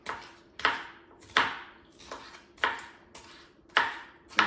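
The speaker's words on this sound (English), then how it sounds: "chop this guy up," A knife chops through cabbage on a cutting board with about seven sharp, crisp strikes in a fairly even rhythm, each ringing briefly before the next.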